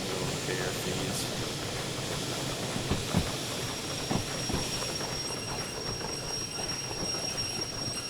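Steam locomotive in the video game Derail Valley venting boiler pressure: a broad, steady hiss runs through the whole stretch, with a few soft knocks and clanks mixed in.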